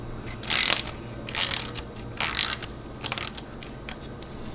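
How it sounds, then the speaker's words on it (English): A ratcheting screwdriver backs out a T20 screw from the backup camera bracket on a Ford Edge or Escape, with four or five short, close clicking bursts separated by brief pauses and no talking. "We're going to go ahead and take that screw off next."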